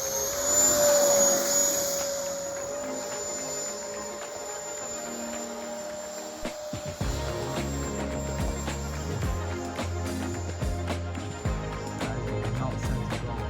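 A 6S RC jet with its motor mounted below the wing flies at low throttle outdoors, giving a steady high-pitched electric whine that shifts in pitch as the aircraft passes, under wind and faint background noise.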